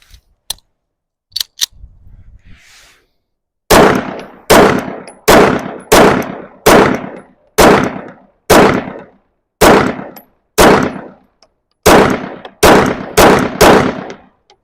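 Sig P365 pistol fired outdoors, two sharp early cracks and then about a dozen loud close shots at a steady, fairly rapid pace, each with a short ringing decay, with a brief fumbling pause near the start.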